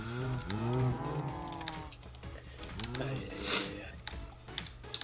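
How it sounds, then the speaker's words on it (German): A Minecraft cow gives low, drawn-out in-game moos, one early and another midway, while a German-speaking player talks and computer keys click in the background. "Ich gehe da mit einer Kuh hin."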